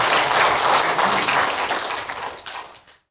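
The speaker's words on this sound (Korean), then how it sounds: "큰 박수로 환영해 주십시오." An audience at a political lecture seminar welcomes a speaker with loud, dense applause that holds for a few seconds and then tapers off.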